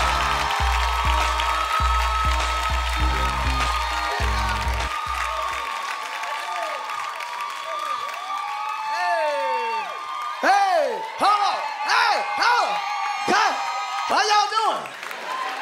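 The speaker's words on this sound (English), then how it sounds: "Y'all better clap loud enough." An audience cheers and applauds for clean comedian Double D at a comedy show. Music plays at first, then scattered whoops and claps rise while someone talks to the crowd.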